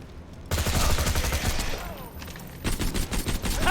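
Gunfire from Axton and his turrets against Nomad enemies in a Borderlands-style shooter: dense, continuous rattling volleys that drop briefly, then resume in choppier bursts.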